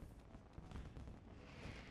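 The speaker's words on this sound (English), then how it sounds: "I can hear the fireworks." Fireworks go off close by with dull, booming pops and rumbles, heard faint and muffled through a continuous noisy background.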